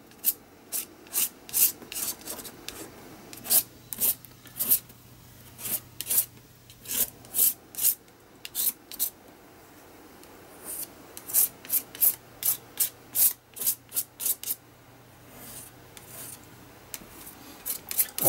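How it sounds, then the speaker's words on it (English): Paint scraped across an art journal page with no gesso underneath, heard as a run of sharp, dry rasping strokes coming in quick bursts with short pauses, close and fairly loud, with no talking. "I'm going to put a little bit on to start off with and just scrape it down"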